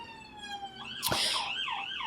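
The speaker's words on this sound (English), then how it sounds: "Let the siren pass." An emergency vehicle's siren wails outdoors at moderate distance, its pitch sweeping up and down in rising and falling cycles, with a sharp burst partway through and no talk over it.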